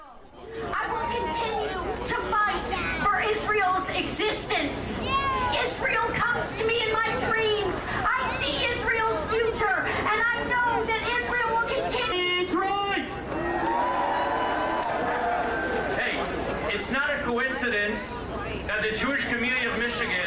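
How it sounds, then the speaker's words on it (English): Crowd gathered for a menorah lighting in Detroit, a dense, steady hubbub of many overlapping voices chattering close around, continuous throughout with occasional louder individual voices rising above the babble. "But the crowd has gathered."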